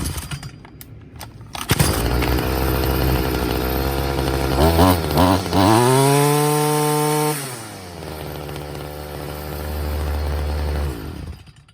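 A Stihl FS55R string trimmer that had been bogging down is started and runs, its two-stroke engine revving up to a high whine, holding, then dropping back to a rougher idle, loud and close.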